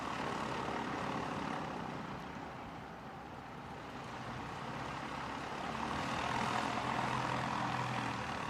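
Aircraft taking off at Christchurch Airport in wet, rainy weather, a broad steady engine roar that swells and fades slightly over several seconds, heard from a distance amid rain and ambient noise.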